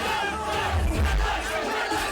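A crowd at a live music gig roars and cheers, a loud, dense wash of voices that swells and stays strong for a couple of seconds.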